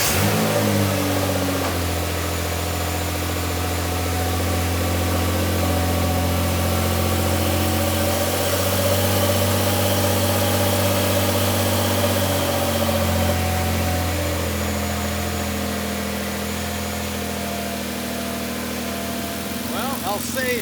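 A car engine idles steadily after a restart while fuel seepage is checked, a low continuous rumble with slight changes in pitch, heard close and loud throughout.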